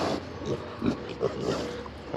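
Pigs on a farm give low, scattered grunts and oinks close by, repeating irregularly over a steady background hiss.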